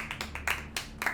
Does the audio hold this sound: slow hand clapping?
yes